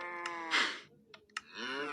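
Cartoonish Minecraft cow moos sound close by, a couple of drawn-out lows mixed with quick keyboard clicks between them.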